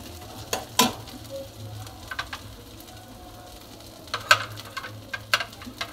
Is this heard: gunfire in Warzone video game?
no